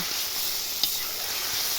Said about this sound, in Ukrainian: Ось у нас вже смажиться копчене сало таке, і цибулька і морква.